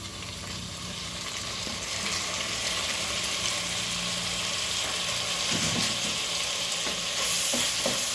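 Tomatoes and onion frying in a pan for a bitter gourd palya, a steady, even sizzle with soft stirring scrapes now and then, close and continuous with no talk.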